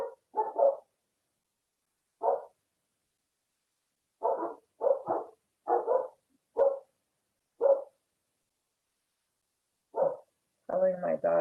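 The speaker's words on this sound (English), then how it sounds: "Telling my daughter to shut the dogs up." Dogs barking in a home, a series of short, sharp barks in scattered bursts, single and doubled, over about eleven seconds with silence between them, moderately loud and not very far off.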